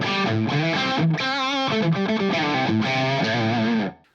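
An overdriven electric guitar through a Friedman Golden Pearl pedal with reverb plays a sustained, bending lead line with a gritty, singing tone, then stops abruptly.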